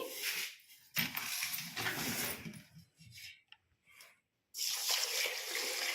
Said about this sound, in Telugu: ఇప్పుడు ఇవి బాగా ఒక 6-7 సార్లు కడిగేసి ఒక 15 గంటల పైన నానబెట్టుకోవాలండి